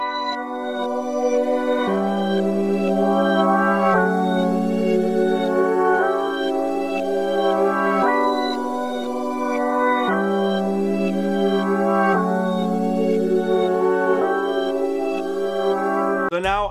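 Reversed guitar sample treated with EQ boosting the highs and chorus, built into an RnB beat in FL Studio; a steady, sustained swelling chord loop repeats in roughly two-second cycles, loud and alone with no talk.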